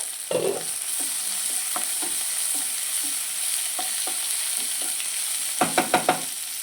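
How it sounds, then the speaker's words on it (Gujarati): Curry leaves dropped into a hot pan of browning ingredients for spinach khichdi, crackling and sizzling at close range, with a burst of sharp pops at the start and another cluster near the end over a steady fry. "અને થોડાક મીઠા લીમડાના પાન ઉમેરી દઈશું"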